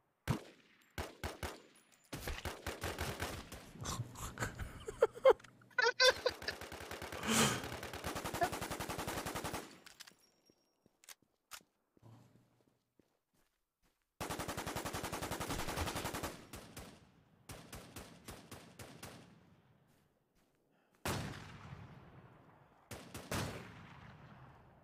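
Bursts of PKM machine gun fire in a video game ring out in rapid, loud stretches of several seconds each, separated by silent gaps, with a few short isolated shots between them.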